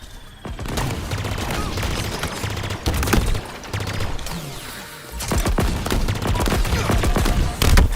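Repulsor gun firing in a video game, loud rapid bursts of repeated close shots that come in two long volleys with a short gap, with little talk.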